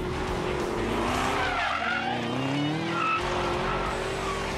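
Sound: 2017 Callaway Camaro SC750 driving hard on a race course

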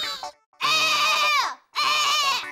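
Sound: voice imitating a crow crying, sounding like a goat bleating

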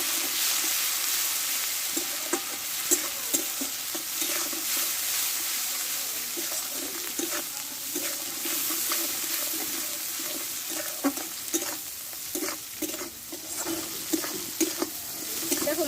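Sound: spice paste with ginger and tomato frying and stirred in pan

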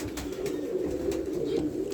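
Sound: pigeons cooing in loft

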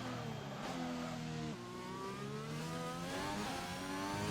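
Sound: F1 car hybrid turbo engine, video game

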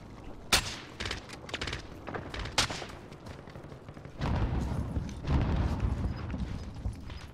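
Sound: gunfire from enemy snipers in the video game Warzone

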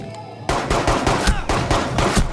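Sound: gunfire shooting jukebox disc in Rainbow Six Siege video game

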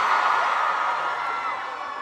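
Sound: concert crowd cheering

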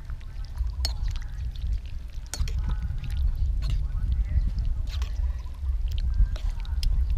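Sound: pouring boiling soup broth into noodle bowl

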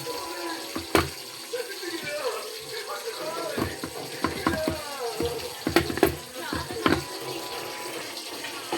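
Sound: water being poured into cooking pot

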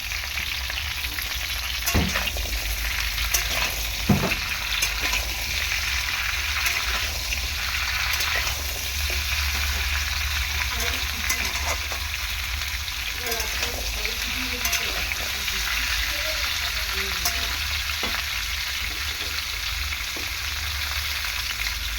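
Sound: vegetables frying and being stirred in a pan for khichuri

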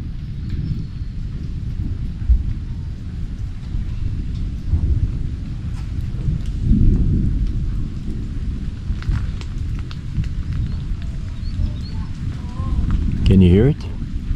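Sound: thunder during a rainstorm at Mayan ruins

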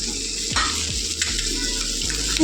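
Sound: okra frying and being stirred in spiced oil

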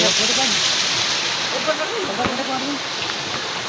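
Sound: water flowing strongly

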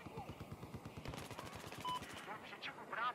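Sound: gunfire in the video game Battlefield 4

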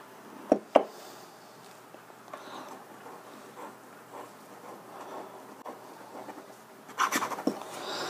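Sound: Lamy Safari fountain pen writing on paper

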